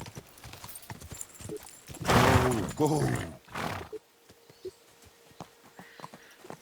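Horse clip-clop hooves and a loud neigh in Kingdom Come Deliverance 2, with steady hoofbeats under a man's brief exclamation, the whinny rising sharply mid-clip before fading back to soft footfalls.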